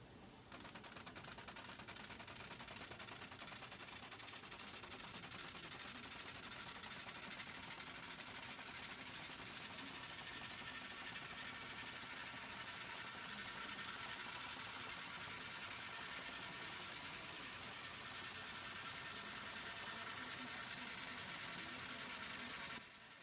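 A running chain printer gives off a dense, continuous mechanical chatter, a rapid rattling hammer-like clatter that stays steady and fairly loud, with no voices, for over twenty seconds.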